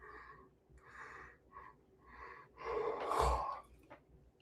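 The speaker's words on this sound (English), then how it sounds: "It's just the yawning." Breathy open-mouthed yawn that builds from softer inhalations into a long, louder drawn-out exhale, heard close and alone.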